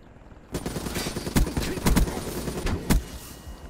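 Gunfire in Call of Duty: Black Ops III, several sharp loud shots and short bursts popping over a busy in-game background, with a player's voice faintly mixed in.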